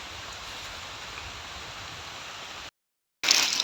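Heavy downpour outdoors in a rural field, a steady, loud broadband hiss of rain that cuts out abruptly near the end, then resumes with a harsher, closer spatter.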